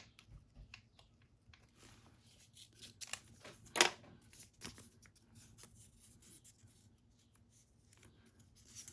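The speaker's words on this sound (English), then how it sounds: "I'm just going to cut it to size." Scissors snip through resin paper being trimmed for a handmade junk journal, soft scattered rustles and cuts with one sharper snip in the middle, quiet and close.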